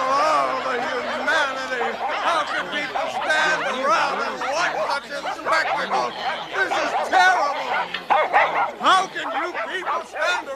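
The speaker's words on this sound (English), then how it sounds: "Here come the dogs, Floyd. The dogs are coming." Dogs bark and yip repeatedly at a staged dog fight in a comedy news sketch, with busy, overlapping yelps and someone talking over the noise throughout.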